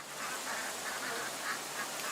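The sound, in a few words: ducks quacking in a duck pen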